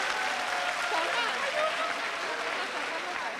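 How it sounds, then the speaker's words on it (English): A conference audience claps for presenters on stage, a steady wash of applause lasting a few seconds with voices faintly mixed in. "A little bit of applause."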